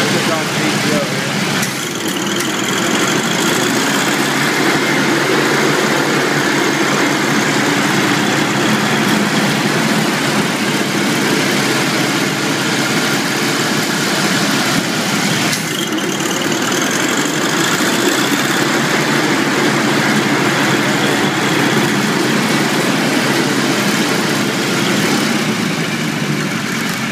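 International Cub 184 tractor engine, freshly tuned, running steadily with the PTO engaged: a constant loud rumbling idle with mechanical clatter, close by, with brief shifts as throttle changes.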